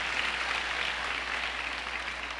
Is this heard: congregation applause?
yes